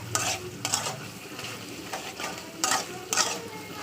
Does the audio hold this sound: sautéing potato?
yes